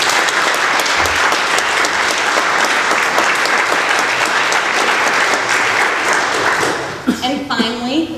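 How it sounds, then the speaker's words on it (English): A competition audience applauds the judges at a live event. Loud, dense clapping fills the room for about seven seconds, then fades as a voice begins speaking. "please a big round of applause to the judges tonight"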